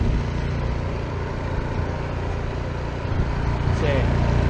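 A generator engine runs steadily inside a storage unit workshop, a dense continuous low drone with no breaks, close and fairly loud throughout.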